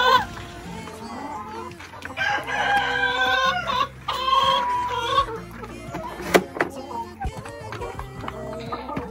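A rooster and a flock of Isabral HB Vermelha laying hens on a farm give overlapping clucks and drawn-out crowing calls, close and fairly loud, with a sharp knock partway through and farmyard background.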